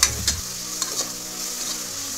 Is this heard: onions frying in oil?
yes